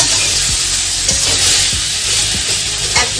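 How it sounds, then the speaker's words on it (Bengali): Malabar spinach (pui shak) sizzles steadily in a hot pan for a vegetarian village dish, with a continuous frying hiss and repeated soft scraping stirs throughout, close and loud, no talking. "পুঁই শাকটা আমি বসিয়ে দিলাম।"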